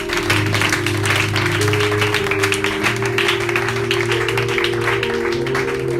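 A church congregation applauds to acclaim the Lord during prayer, a dense continuous clapping that stays loud throughout, with sustained organ or keyboard tones underneath.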